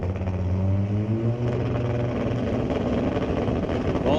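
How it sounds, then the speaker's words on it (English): A Pro Mod Kawasaki drag racing motorcycle at a drag strip, its engine droning loudly and continuously with a rising, rough tone throughout. "So Austin Christopher on his Pro Mod Kawasaki. This is the world's quickest Kawasaki."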